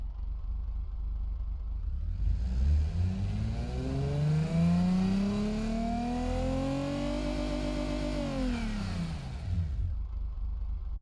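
In the Automation car-building game, a minivan engine runs a dyno test pull, revving smoothly and steadily upward in pitch for several seconds before dropping back. The engine is loud and close, with no speech.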